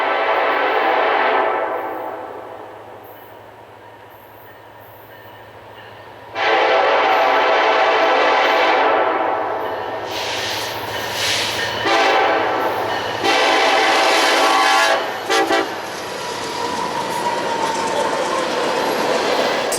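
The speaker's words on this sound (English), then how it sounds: "BNSF 8446 is in charge of BNSF X FTX SUP, the Freona Texas to Superior, with a wonderful K5 LLA and a nice horn salute." BNSF freight train led by an SD70ACE locomotive with a K5LLA horn, sounding loud horn blasts in a salute while passing close by, with rumbling wheels and clattering cars between and under the blasts.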